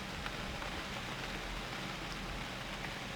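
Steady rain in the game UnReal World falls continuously, a dense even hiss of drops on surfaces, moderately loud and unchanging, with no voices.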